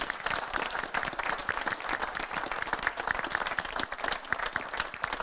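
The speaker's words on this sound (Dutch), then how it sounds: "En dan mag ook best een warm applaus blijven." Warm applause from an audience at a local broadcaster's election event, continuous crowd clapping with a lively uneven texture, fairly close and sustained, no talk over it.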